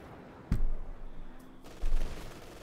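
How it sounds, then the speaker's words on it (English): Scott self-propelled artillery fires in Company of Heroes 2 with two separate booming shots about a second apart, each rumbling briefly over a quieter battlefield background with no talking. "Machine gunner taking losses from VonAsten's Scott artillery fire there."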